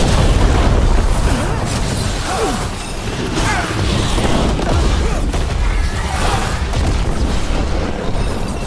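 Gunfire and explosions in the action role-playing game Dragon Age: The Veilguard form a loud, dense, continuous battle din of booms, crashes and mechanical clatter, with a few faint voices mixed in.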